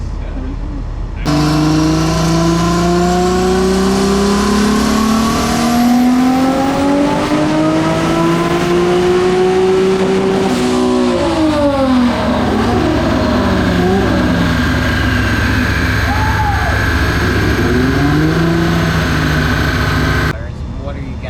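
A twin-engine Suicide MX3 running on 94 pump fuel revs hard on a dyno, its engine note climbing steadily through a long pull and then dropping and blipping, loud and close.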